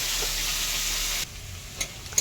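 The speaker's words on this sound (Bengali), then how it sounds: "সমস্ত উপকরণগুলো একত্রে দিয়ে আমি একটু দিয়ে আর সর্ষের তেলে ভেজে নিচ্ছি।" Mixed ingredients fry in mustard oil with a loud, even sizzle that suddenly drops to a quieter hiss halfway through, followed by a couple of brief clinks of stirring.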